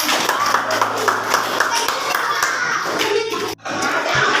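Children clap together in a classroom during a lesson, a dense, steady patter of many hands with voices mixed in, briefly cutting off near the end.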